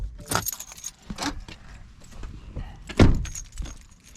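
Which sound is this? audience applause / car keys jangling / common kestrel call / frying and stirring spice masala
car keys jangling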